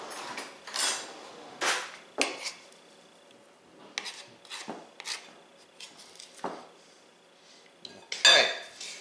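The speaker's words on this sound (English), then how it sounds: "Scrape this off." Dough scraped off a surface with a metal utensil while making eggnog scones, heard as a series of short, sharp clattering scrapes and knocks in bursts, close and fairly loud with no talking.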